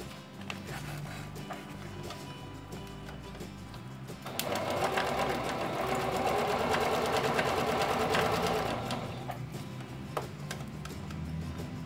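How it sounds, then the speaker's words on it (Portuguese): A sewing machine runs a straight seam around the edge of plastic, a steady mechanical whir that picks up speed and loudness midway, then eases back. "Agora eu vou passar uma costura reta em toda a volta e cortar esse excesso de plástico"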